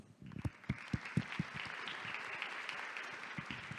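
Applause from a conference audience after a panel discussion, a burst of hand claps that builds into steady clapping, with a few louder claps near the front.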